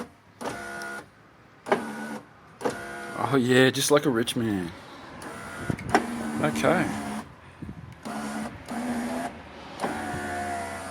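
A Lexus SC400 electric window runs up or down on a newly replaced regulator, its motor whirring and straining in short bursts amid close, frequent talk.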